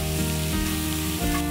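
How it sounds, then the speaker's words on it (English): A quarter of a medium chopped onion sautés in a pan over very high heat, giving a steady, close sizzle that runs unbroken with small swells, alone without talk. "we're gonna add 1/4 of a medium onion and just quickly saute it like this for a good 15 seconds on super high"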